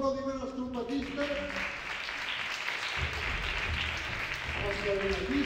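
Strong applause for the trumpet players at a school band rehearsal, a dense wash of clapping running through the whole stretch, with a few voices talking over it near the start and end.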